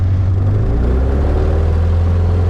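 Piper Arrow single-engine piston aircraft at full takeoff power on the runway, a steady loud droning rumble with a low hum that holds even throughout, with no talk over it.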